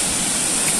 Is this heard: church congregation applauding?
no